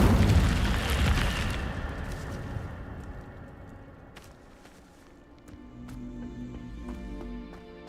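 An Incendio fire spell cast in Hogwarts Legacy, a loud whooshing burst of flame that fades over a couple of seconds, followed by quieter footsteps and scattered sharp clicks.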